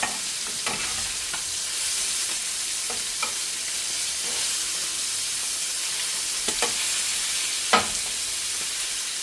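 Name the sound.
sardines frying in a pan, turned over one by one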